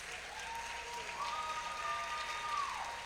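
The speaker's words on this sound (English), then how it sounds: "We all deserve a great big round of applause." At a Teachers of the Year ceremony in Contra Costa County, a crowd gives a steady round of clapping, soft and somewhat distant, swelling slightly toward the end.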